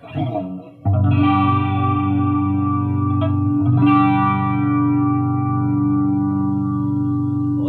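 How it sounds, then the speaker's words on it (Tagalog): A sustained electric guitar chord rings out through a modified NUX CH-3 chorus pedal, its warbly, shimmering, wavering tone held steady and loud after a short strum. "mas warbly na sound ng chorus, parang vibrato na rin"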